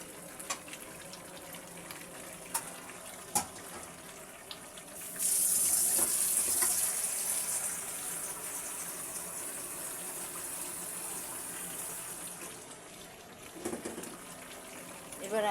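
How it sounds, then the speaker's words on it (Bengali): Water poured into a pan of chicken, potato and papaya curry, heard as a loud, steady gushing stream that lasts several seconds and then eases into softer running water, with a few clinks and taps heard before it. "এবার আমি সুন্দর করে ঝোল দিয়ে দিচ্ছি তরকারিটার মধ্যে।"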